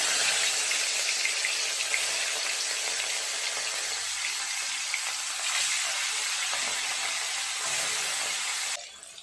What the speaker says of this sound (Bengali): মাছগুলো দিয়ে দেবো এক এক করে।